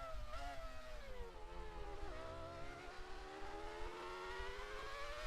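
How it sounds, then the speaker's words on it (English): A racing car in a video game, its engine note stuttering as traction control cuts in, a busy rising and falling whine with rapid choppy interruptions, steady and fairly close throughout with no talking. "As you can hear the TC cutting the engine."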